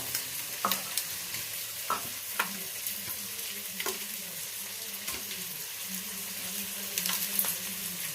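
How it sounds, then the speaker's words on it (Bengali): Fish heads frying in a pan, a steady close sizzle with occasional stirring knocks and scrapes, no talking. "মাছের মাথাগুলো ভেজে নিই।"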